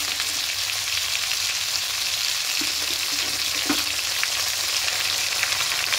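Spices and ginger-green chilli paste frying in a pan for a vegetarian khichdi, a dense, loud, continuous hiss of sizzling oil with a few faint stirring knocks.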